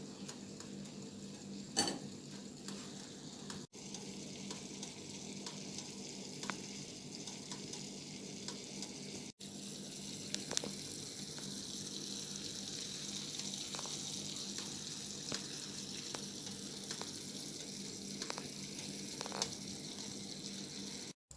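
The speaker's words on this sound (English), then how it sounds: "I wash it using a strainer, then I put it in a hot pot and let the water dry out and toast it for a little." Quiet, steady sizzling of rinsed quinoa toasting in a hot pot as the water cooks off, with occasional soft ticks and scrapes over a low continuous hiss.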